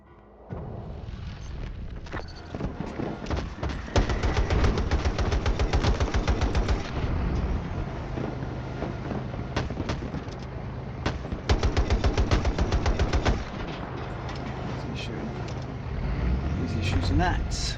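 Rapid automatic gunfire in Battlefield 2042, long bursts of loud, tightly spaced shots in two main volleys with shorter pops between, over rumbling vehicle and battle noise.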